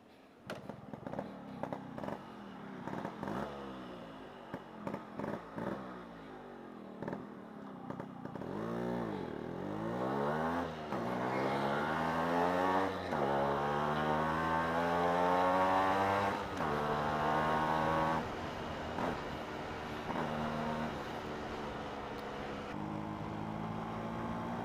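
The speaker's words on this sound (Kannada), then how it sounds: "ಪಟ್ ಪಟ್ ಪಟ್ ಪಟ್ ಅಂತ ಮುತ್ತುಗಳು ಉದುರುತ್ತಾ ಇದೆ ಮಾತ್ರ ಗಾಡಿನಲ್ಲಿ" A Yamaha RX135 two-stroke motorcycle engine running during a ride, popping at first and then revving up through rising, sweeping pitches, loud and close with no talk over it.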